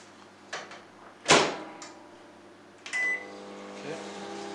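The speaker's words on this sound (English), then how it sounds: "this you can just put in the microwave, pop in there for 30 seconds, a minute" A few clicks and a thump like a microwave door closing, then a short beep and the low hum of the microwave running.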